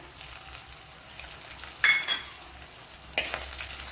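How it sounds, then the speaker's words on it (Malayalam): Garlic and ginger paste hitting hot oil in a pan while cooking ivy gourd, giving two bursts of crackling sizzle over a low steady frying hiss, with faint stirring scrapes. "ആറ് വെളുത്തുള്ളി ഇഞ്ചിയും കൂടെ പേസ്റ്റ് ആക്കിയത് അതിട്ട് കൊടുക്കാം"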